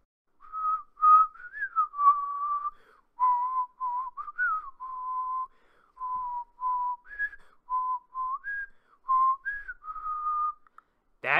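A person whistles a wandering melody of short phrases with brief pauses, clear and close, with nothing else audible.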